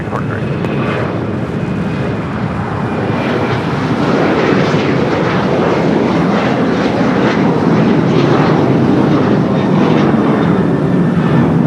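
An Alaska Airlines Boeing 737-900ER, flight 768 to Honolulu, takes off at Los Angeles airport, its jet engines a loud, broad, steady roar that swells and holds throughout, with a voice speaking over it.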